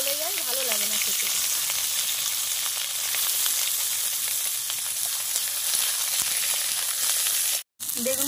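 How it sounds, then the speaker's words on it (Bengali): Brinjal pieces frying in hot oil, a steady close sizzle and crackle running throughout with a brief dropout near the end, and a faint voice at the very start. "এই তেল গরম হয়েছে, বেগুনটা ভেজে নেব।"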